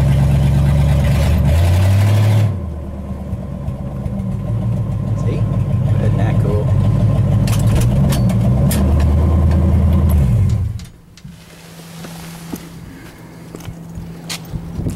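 A 1959 Pontiac Star Chief engine idling loudly up close, a steady low rumble that holds for about ten seconds and then drops to a quieter, smoother idle.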